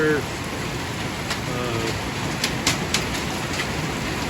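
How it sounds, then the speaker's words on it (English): Heavy rain pours down during a severe storm, a constant hiss with a few sharper drips and taps near the end, while a person speaks over it. "It's raining so hard."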